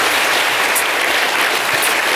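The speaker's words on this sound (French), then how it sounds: "On l'applaudit encore." TV studio audience applauding, a steady dense wash of clapping filling the short stretch with no voices.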